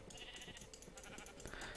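A faint sheep bleat from a Minecraft-style game sounds through a low, busy in-game background, brief and quiet, without talk.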